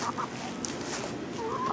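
Hens cluck softly near a backyard coop, a few short clucks over steady low background noise.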